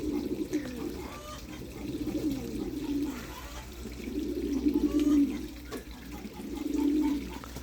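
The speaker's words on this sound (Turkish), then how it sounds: "Burası güvercinlerin bir kısmı." Pigeons coo in soft, repeated rolling phrases inside a loft where young birds flap their wings before learning to fly, with faint background noise and no talk.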